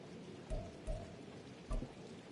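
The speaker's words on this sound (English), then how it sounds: "The rain set to continue as we are underway in the 2nd half." Steady rain falls on a football game in Madden 24, a faint continuous hiss with a few soft low thumps.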